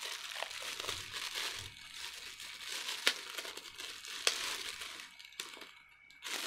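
Plastic wrapping around a Forever Young bag crinkles and rustles in close, soft bursts, with a few sharper crackles standing out.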